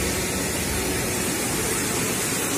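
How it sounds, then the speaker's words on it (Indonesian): River water rushes over a dam in a constant, dense roar filling the whole stretch, close and loud, with no talking. "mendengarkan suara deburan air sungai di bendungan ini"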